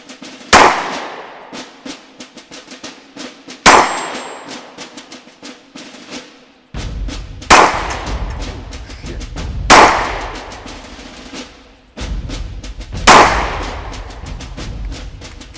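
A Glock 20SF 10mm pistol fires Sig Sauer ammunition at a range, five loud, sharp reports spaced a few seconds apart, each with a ringing decay, close to the microphone.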